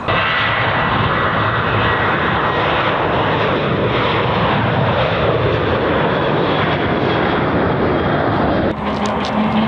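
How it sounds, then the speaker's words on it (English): A loud, steady roar of a propeller airplane passing overhead fills the whole stretch, close and continuous, with no pauses. "Catch all the planes on downwind right there."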